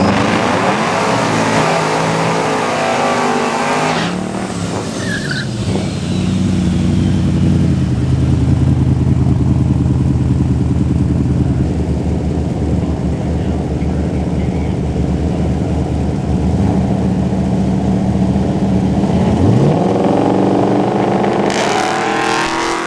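Drag race car launching from the line with its launch RPM raised slightly, a loud, close engine roar that holds steady and strong for most of the run before fading near the end.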